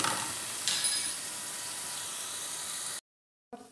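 Ginger garlic paste sizzles in a little hot oil in a pan, a steady close hiss with a brief louder burst, then a sudden cut to silence and a short return.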